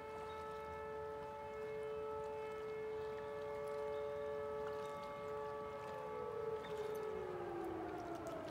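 Siren sounding near Roaring River, heard from a boat: a loud, sustained multi-tone wail that holds steady, then slides downward in pitch toward the end, with no talk over it.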